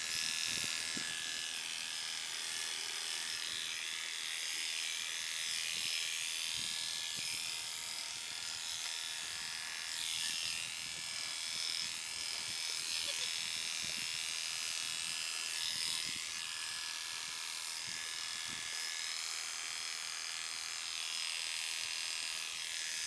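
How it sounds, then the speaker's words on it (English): Electric clippers shearing a pregnant goat's coat, a close, steady buzzing drone that continues for over twenty seconds with faint rustles and shuffling as the blades move through the hair. "We don't want to shave her down completely to the skin."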